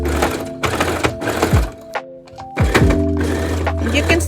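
Sewing machine stitching fringe tassels along the border of a garment, running in loud bursts of motor hum and needle rattle with brief pauses between runs.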